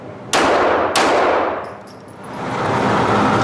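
Two loud gunshots ring out at an indoor shooting range in Ringgold, Georgia, about half a second apart, each followed by a long echoing decay.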